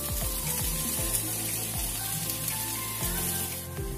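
Cauliflower stems fry in a pan with mustard and green chili paste, giving a loud continuous sizzle with a few brief scraping stirs. No voice is heard.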